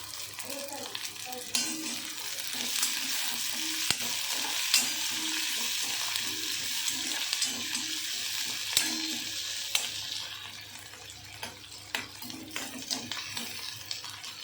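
Whole tomatoes fry with onion in a pan, making a close, steady sizzle with stirring and a few sharp clinks of a spoon. The sizzle softens into intermittent bubbling toward the end.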